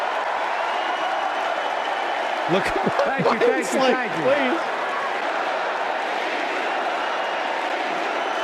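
A crowd at a send-off speech cheers and claps in a steady, dense wash, with a voice speaking over it at close range.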